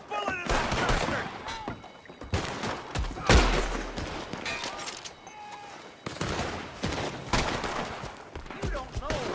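A shootout in the video game Red Dead Redemption 2, with rapid loud gunshots cracking in irregular bursts and volleys, a heavy boom near the middle, and shouted voices mixed in between the shots.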